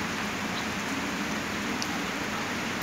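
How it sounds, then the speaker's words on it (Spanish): Steady rain pours down continuously, a dense, even hiss of drops pattering on plant leaves, including cactus, and surfaces with no voices. "ahí están recibiendo el agua de lluvia"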